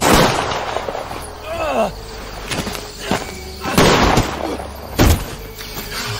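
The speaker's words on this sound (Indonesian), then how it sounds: "muncul si Evan yang langsung menembak Johnny hingga 3 letak" Gunshots in a tense film scene ring out as several sharp, loud booming cracks spread over a few seconds, mixed with background noise and dramatic sound effects.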